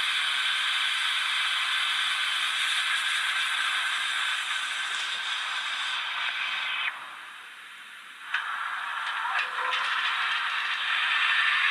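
A Rapido Hunslet 16in 0-6-0ST model steam locomotive's factory-fitted sound plays its blower: a steady, bright hiss that cuts out for about a second, returns, and briefly dips again before resuming.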